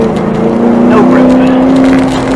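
A 1994-2004 Ford Mustang drives an autocross course on cold tires, its engine a loud, steady drone heard from inside the car.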